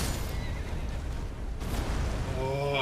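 In Elden Ring, in combat around Nokron Aqueduct, a horse gives a short whinny near the end, after a stretch of rumbling battle noise.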